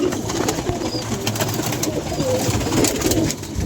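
Pigeon cooing rises and falls steadily at close range, soft repeated coos layered over a dense, busy background with no talk.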